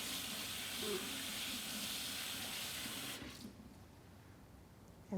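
Water runs steadily from a kitchen tap while hands are rinsed, a soft continuous hiss that cuts off near the end.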